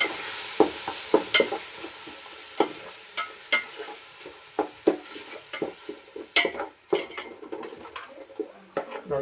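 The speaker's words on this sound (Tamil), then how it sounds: "ஆனியனை போட்டுட்டு நல்லா கலந்து விட்டுணும்." Onions frying in a pan while being stirred, with a spoon scraping and knocking against the pan in quick irregular strokes over a soft sizzle, close up and without speech.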